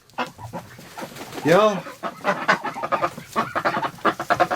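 Ducks penned indoors against the cold give loud, harsh honking calls, several in a row and overlapping, with a noisy scrabbling bustle between them. A person says a brief word nearby.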